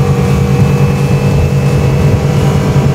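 Aluma Fish 5.1 XL aluminium motorboat swinging into a tight high-speed turn near 70, its outboard engine droning loud and steady with a low rumble and rushing water and wind, no voices.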